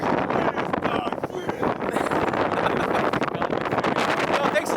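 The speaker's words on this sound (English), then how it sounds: "Now God is punishing us with cold wind." Cold wind gusting steadily on a train, a loud continuous rushing roar buffeting the microphone for the whole stretch.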